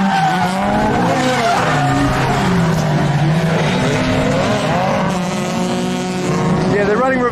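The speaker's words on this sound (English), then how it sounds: "we are here today at Nikko Circuit at an event, watching some drifting" Drift cars at a Nikko Circuit track event howl close by with wavering engine revs and squealing tires, loud and continuous, with people talking underneath.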